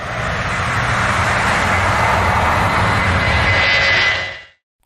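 An airplane engine roars with a broad, steady whoosh and a faint high whine, loud and continuous, then drops away at the end.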